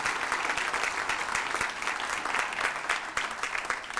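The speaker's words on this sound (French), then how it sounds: "Un gros applaudissement." Steady, dense applause from an audience at a hospital foundation's 40th anniversary celebration in La Malbaie, filling the space evenly at close range with no pauses.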